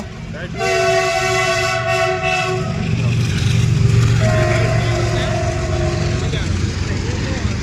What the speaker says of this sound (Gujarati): ટ્રેન આવી છે, તો જરાક ઊભા અહીં જો હમણાં આવી ગયો